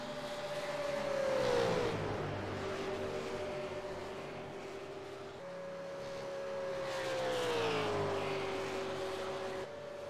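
An AUSCAR race car in a video game makes a hot lap at Texas, its engine a steady drone whose pitch sweeps down twice through gear changes, moderately loud and uninterrupted, with no speech.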